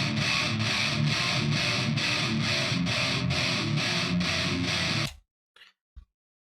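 Metal guitar mix processed with a Pultec EQ trick, a tight, dense distorted riff with steady rhythmic chugging that stops abruptly after about five seconds, followed by a couple of faint clicks.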